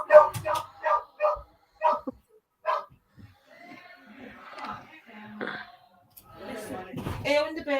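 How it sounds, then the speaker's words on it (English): A dog barks in a quick series of sharp, close yaps at the start, then whimpers and yips while a person talks over it indoors. "sorry about my dog barking"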